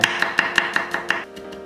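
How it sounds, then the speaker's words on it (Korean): Seven crisp knife strokes in an even rhythm as two whole garlic cloves are minced on a cutting board for a Korean aged-kimchi dish. The strokes are close and clear, and a brief quiet tail follows them. "통마늘 2개는 다져서 볶음팬에 담고"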